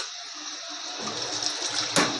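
Warm water runs and splashes steadily close by while dried Bombay duck is washed, with a brief louder gush near the end; no voices.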